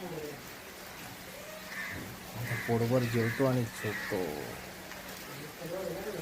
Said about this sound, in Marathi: अजून पण खूप पाऊस चालू आहे